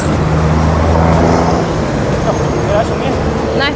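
Steady roadway traffic on Cerro avenue in Havana, Cuba, on a Monday, with a continuous broadband rumble of passing cars and buses close by and a brief higher engine or horn tone near the end.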